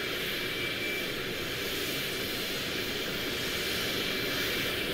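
A steady, full-bodied jet airplane roar hangs over a road scene in Euro Truck Simulator 2, holding at an even, loud level with broad hiss and no break for the whole stretch.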